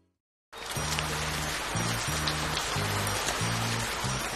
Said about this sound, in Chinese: 这秋天怎么总在下雨啊？